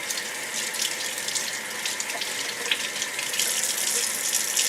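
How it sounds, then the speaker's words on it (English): Tap water runs steadily over artichoke stems being rinsed in a sink while making Italian stuffed artichokes, a continuous close hiss and splash that swells slightly louder toward the end, with no talking. "Let's just rinse off real quick the stems."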